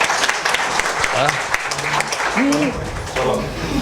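An audience at a bride-and-groom matchmaking gathering claps loudly and continuously, a dense burst of applause with voices mixed in.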